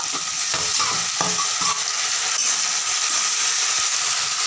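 Tomatoes sautéing in hot oil with chilli and curry leaves for a garlic curry, a constant bright sizzle broken by several sharp clacks and scrapes of a spoon stirring the pan, no talking.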